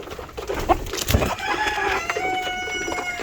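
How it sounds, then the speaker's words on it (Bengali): Chickens clucking and cackling nearby on a poultry farm, some flying overhead, with a rooster-like call rising over a steady barnyard background. "কিছু মুরগি তো আমার মাথার উপর দিয়ে যাচ্ছে"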